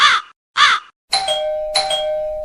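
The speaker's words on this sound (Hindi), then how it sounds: "लो, बज गई घंटी" Two crow caws are followed by an electronic two-note doorbell chime that rings out clearly and lingers.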